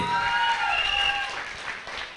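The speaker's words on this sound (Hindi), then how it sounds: "उनके लिए भी जोरदार तालियां प्लीज" An audience applauds at a dance workshop grand finale in Surat, a broad hiss of clapping mixed with sustained music tones that fade slightly partway through.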